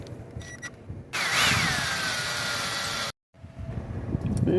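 A power drill whirs steadily for about two seconds while fitting a latch to a door aboard a catamaran sailboat, with a near, loud, continuous whine that cuts off abruptly. Quieter workshop clatter surrounds it before and after.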